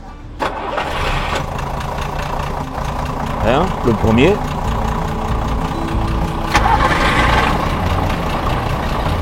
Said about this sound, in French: je vais démarrer les deux moteurs de la machine